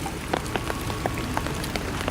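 Heavy rain falls in deep woods, a steady dense patter of drops striking leaves and surfaces, with a few sharper nearby splats standing out against the constant hiss.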